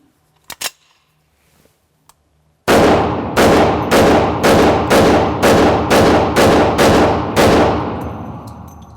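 Hi-Point JXP10 10mm pistol fired at an outdoor range: after a few faint handling clicks, eleven loud, sharp shots ring out in a steady, evenly spaced string, each with a short echoing tail.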